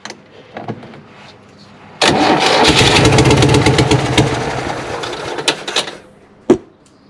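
A 1960 Panhard PL17 engine, which has a small exhaust leak, cranks and catches, then runs loud and close with an uneven throbbing beat for several seconds before it cuts out. A final sharp pop follows.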